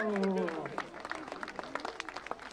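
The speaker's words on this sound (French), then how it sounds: "On peut l'applaudir très fort." A circus audience in Walincourt-Selvigny applauds a volunteer as a voice trails off at the start, then scattered, moderately distant clapping continues on its own, growing more broken toward the end.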